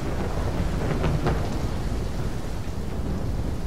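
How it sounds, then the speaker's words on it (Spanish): Thunderstorm ambience in Call of Duty Black Ops 3, a loud, continuous low rumble of thunder mixed with rain noise that stays fairly steady throughout, without speech. "Antes de que arrecie la tormenta."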